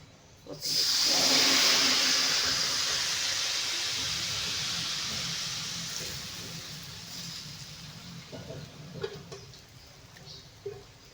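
Batter poured into hot rice bran oil, a sudden loud hissing sizzle that swells at once and then slowly fades to a quieter bubbling crackle, close by, with faint clinks later.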